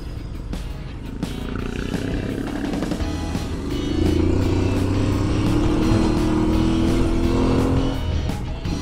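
Off-road motorcycle on a trail revs up and accelerates with a loud, rising engine roar that swells and holds steady, close by, with no talk over it.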